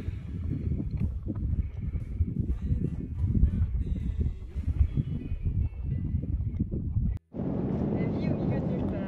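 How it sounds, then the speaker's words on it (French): Strong wind in open Moroccan countryside buffets the microphone in a steady low roar, briefly cutting out before continuing with a brighter gusty hiss. "Il y a un peu de vent."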